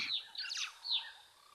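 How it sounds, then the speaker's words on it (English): A couple of short, high chirpy bird calls, bright and clear, with a brief pause between bursts against a quiet background. "that does sound sparrowish"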